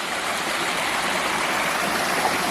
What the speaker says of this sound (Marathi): हे सर्व पाणी नदीपात्रात चाललं आहे.